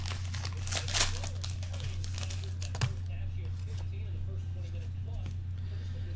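Opening a 2012 Prime Signatures football trading card pack: soft crinkling and tearing of the foil wrapper close by, over a low steady hum, mostly in the first half.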